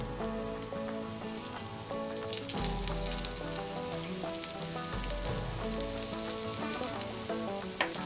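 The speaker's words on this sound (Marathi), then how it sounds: "आता दुसऱ्या बाजूने 1-2-3 मिनिटं हे छान फ्राय करून घेऊया." Slices of elephant foot yam fry in a little oil over a medium-low flame, giving a steady, close sizzle with dense crackling that runs without a break for the whole stretch. No one speaks.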